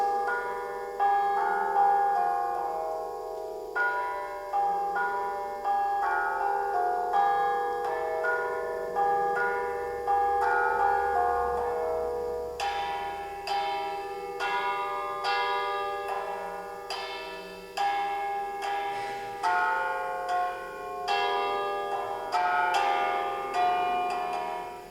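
Church bells rung as a melody from the Codêr bell tower, a long sequence of struck notes with ringing decay, at first even and then quicker and denser, loud and alone.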